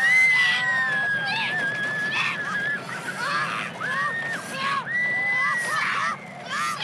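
Roller coaster riders scream in a sustained chorus of overlapping high, wavering voices that rise and fall throughout, loud and close.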